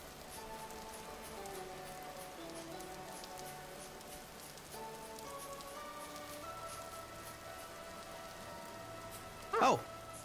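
Steady rain in the video game Pennycress hisses as a soft, even wash under background music tones, with a brief louder burst near the end.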